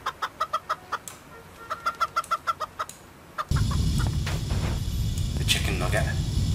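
Rapid, rhythmic clucking of a chicken in the video game Turbo Dismount, two quick bursts of sharp clucks, then cut off by a loud, dense roar that fills the rest.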